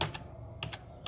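Keys clack on a Shipadoo D620 keyboard, a handful of crisp separate strokes spaced unevenly across a second, close and fairly clear against a quiet room.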